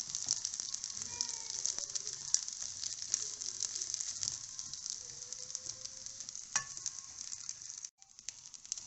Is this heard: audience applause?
no